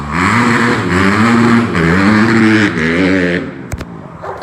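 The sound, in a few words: Honda CRF 150 dirt bike engine revving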